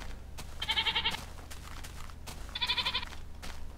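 Two bleating goats in the Minecraft video game, each call a wavering, buzzy bleat about half a second long, the second coming roughly two seconds after the first, heard over a low background hum with no talking.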